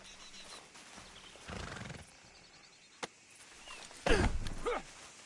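A horse snorts and gives a short whinny against a quiet outdoor background, with a brief sharp knock in between; the sounds are faint and sparse.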